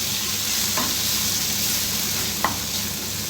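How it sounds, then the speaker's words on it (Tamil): Tomato masala with chilli and turmeric powder sautéing in a pan for masal vadai kuzhambu, a constant close hiss of frying broken by a couple of brief scrapes of stirring. "இப்போ இதையும் நல்லா வதக்கிக்கோங்க."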